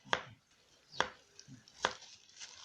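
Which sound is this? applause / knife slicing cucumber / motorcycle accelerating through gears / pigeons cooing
knife slicing cucumber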